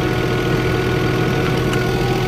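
Car engine idling roughly, with a fault that makes the idle hunt up and down and stall, a steady close mechanical hum and low rumble with faint irregular vibration, no talking.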